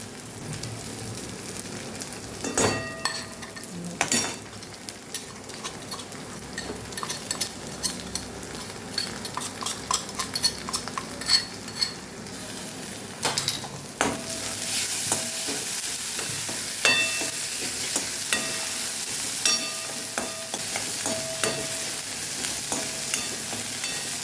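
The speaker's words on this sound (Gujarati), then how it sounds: "આપણે આમાં આદુ મરચાંની જે પેસ્ટ તૈયાર કરેલી આપણે ઉમેરી દઈશું" Onions fry in a pan as ginger-chili paste is stirred in for aloo paratha filling. A spoon scrapes and clinks irregularly over a steady sizzle that swells noticeably louder partway through.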